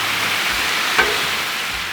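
Thin-sliced beef for Mongolian beef sizzles with sauce on a hot Blackstone griddle, a steady close hiss with one brief clink partway through.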